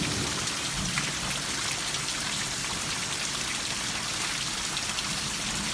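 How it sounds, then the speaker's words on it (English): Hail pelting the ground in a sudden storm, a dense, steady patter of ice chunks hitting the surface that sounds much like heavy rain, continuous and fairly close throughout with no voices. "it's really hailing"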